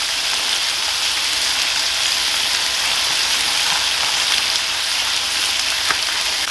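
Bacon frying in a 13-inch cast iron skillet over a gas stove at medium heat: a steady, dense sizzle and hiss throughout, close and fairly loud, with occasional faint pops and no voices.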